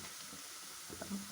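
Ginger roasts in a hot pan with a soft, steady sizzle and faint stirring scrapes, quiet and close.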